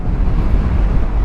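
Steady, strong wind buffeting the microphone, a continuous low roar with no voices, filling the whole stretch.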